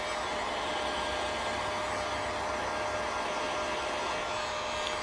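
A heat gun blows with a steady, loud airy roar and a faint whine, running continuously up close while shrinking window tint film on the rear glass of a car.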